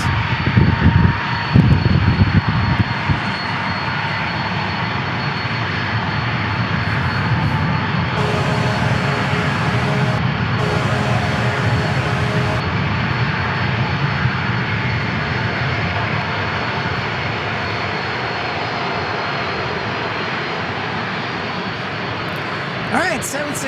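A Boeing 767 jet departs San Diego International Airport with a loud, sustained engine roar that fills the whole stretch. Voices chatter nearby at the start.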